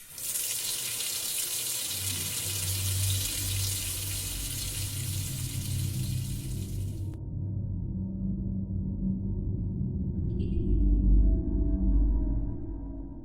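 Water runs steadily from a tap into a sink during handwashing, with a constant hiss and splash that changes tone midway as the flow or hands shift. There is no speech.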